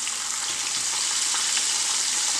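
Southern-style fried chicken frying in hot oil, a steady dense crackling sizzle close up, continuous and even with no voices.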